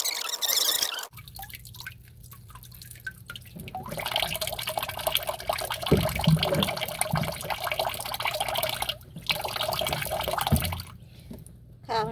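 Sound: washing matsutake mushrooms in water

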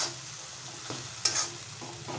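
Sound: stirring cooked tomatoes into rajma gravy in a pan

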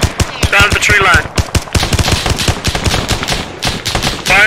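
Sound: gunfire from the woods in video game ArmA 3

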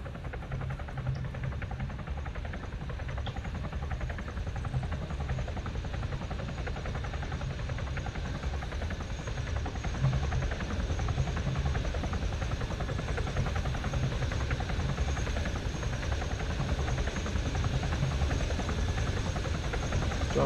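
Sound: helicopter (chopper)

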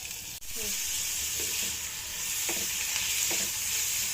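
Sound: frying dried chillies, onion and prawns in a pan

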